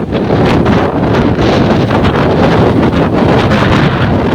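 Strong, gusty typhoon wind roars continuously and loudly, buffeting the microphone with a dense, rushing noise throughout.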